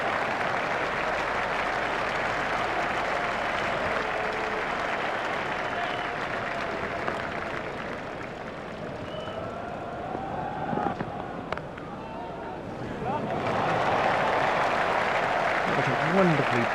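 Crowd applause in the PlayStation cricket game EA Cricket 2002 rises as a steady clapping wash beneath a commentator's talk, swelling again near the end.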